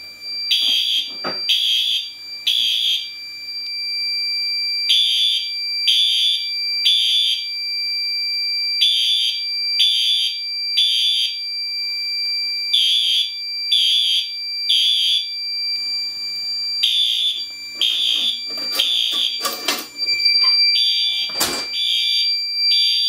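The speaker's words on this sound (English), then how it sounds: "The LEDs turn on pretty quickly and goes back into alarm." A Fire-Lite MS-2 fire alarm panel drives a loud electronic alarm in a repeating three-pulse temporal pattern, steady and close, with a few sharp clicks and knocks near the end.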